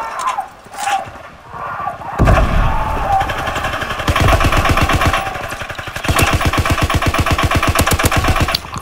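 An MG81 light machine gun fires in the Call of Duty WWII game, with long, steady, rapid-fire bursts rattling close and loud and only short pauses between them.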